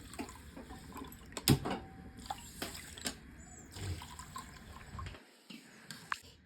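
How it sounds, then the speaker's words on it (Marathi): Water poured in small amounts over barnyard millet in a vessel to rinse it, giving faint running and splashing water with a few soft knocks, close by and quiet. "आपल्याला अशी भगर राळून घ्यायची आहे थोडं थोडं ह्यात पाणी ओतायचं आहे"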